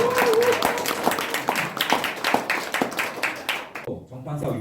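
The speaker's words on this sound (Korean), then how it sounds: "박수는 아낌없이 크게 쳐주시면 될 것 같습니다." An audience at a book talk in a church hall applauding, dense steady clapping that fades out near the end, with a voice speaking briefly over it.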